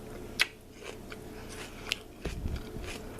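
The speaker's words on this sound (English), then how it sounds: "A nice crunch still to celery, which is perfect." Crisp crunches of cooked celery being bitten and chewed at close range in a home kitchen, tasted from a dish of turkey braised in Riesling with onion and sauce; a few sharp bites followed by quieter chewing, no talking.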